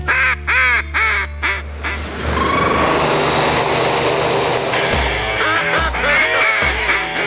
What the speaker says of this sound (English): I learned how to blow a duck call when I was 10 years old.